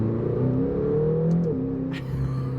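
McLaren GT with 630 Nm of torque pulling hard in second gear, its engine note rising steadily in a loud, continuous rev, then a brief shift dip near the end before it carries on.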